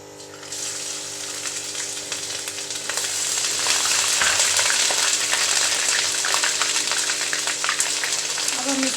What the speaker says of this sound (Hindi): ये फ्राई हो रहा है